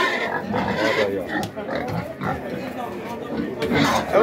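Pigs grunt and oink in pens at an open livestock fair for goats, sheep and pigs, the animals close and continuous beneath a man's loud, steady talk.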